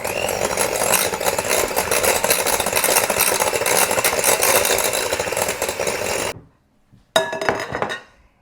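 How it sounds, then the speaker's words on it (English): Fritter bread batter of melted butter and eggs whisked briskly in a bowl, a steady fast clinking and scraping of metal on glass, close and continuous before a short pause and a final burst. "and we're gonna whisk it up."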